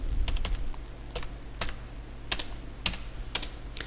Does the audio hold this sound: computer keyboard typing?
yes